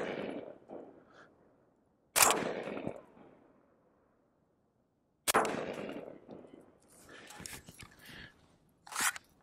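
A suppressed 300 Blackout rifle with a 5.5-inch barrel and a Dead Air Sandman K can, firing Maxim Defense 190-grain subsonic rounds: several sharp, muted reports with ringing decays, close by, spaced out over the stretch.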